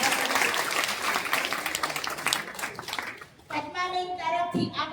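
Audience at a community get-together with bhajan singing claps loudly in a brisk burst of applause that fades within a few seconds, followed by voices talking.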